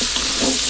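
A short burst of loud, dense sizzling as carrots, potatoes, onions and garlic are stirred in a hot pot, steady hiss with a soft scraping undertone.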